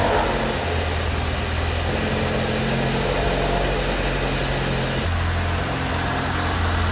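A Honda D16A car engine idles steadily and close by, a continuous low rumble with a slight shift in tone near the end.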